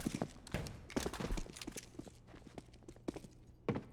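Player footsteps in a professional Counter-Strike match on Mirage, a quiet series of soft, irregular steps with a few louder thumps, heard without talk.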